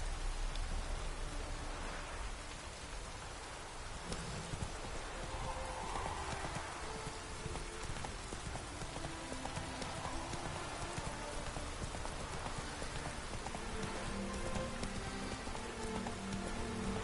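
The horse Roach trots through steady rain in the video game Witcher 3, rhythmic hoof clip-clops running throughout over a constant hiss of rainfall, with faint game sounds in the background.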